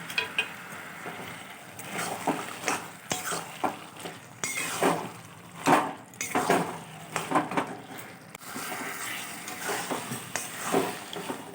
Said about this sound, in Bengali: এবার এটা আমি নাড়তে থাকবো তেলের মধ্যে